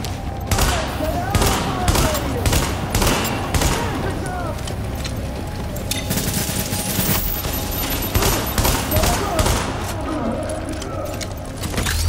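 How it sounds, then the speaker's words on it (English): Shotgun blasts in the video game The Division, a rapid series of sharp, loud booming shots with clattering mechanical noise between them, continuing over the whole stretch. "Fucking shotgun is ridiculously nasty."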